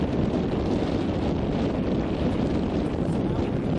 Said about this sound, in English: it's very windy as you can probably hear